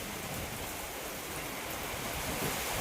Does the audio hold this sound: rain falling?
yes